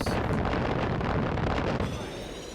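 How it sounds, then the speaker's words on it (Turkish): Explosions from aerial bombing in the video game Far Cry 5 make a continuous loud, rumbling blast with a broad roar that eases off near the end. "Ha bombalanıyoruz lan yukarıdan."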